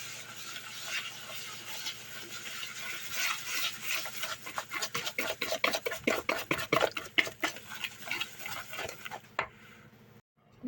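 A whisk beats quickly against the bottom of a bowl, its rapid rhythmic clicks and scrapes growing louder and more distinct before stopping abruptly near the end.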